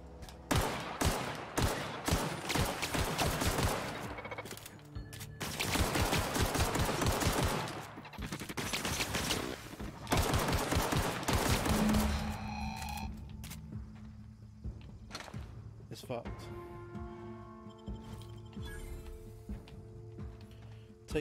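Gunfire in The Outer Worlds: rapid automatic bursts in several long volleys, loud and close, then tapering into scattered single shots and mechanical whirs and tones toward the end.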